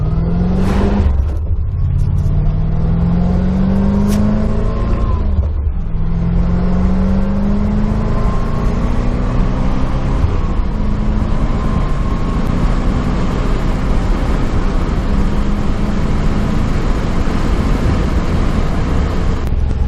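A 1991 C4 Corvette accelerating hard, its engine climbing through the revs in two rising pulls with a gear change between, then holding a loud sustained roar heard from inside the car.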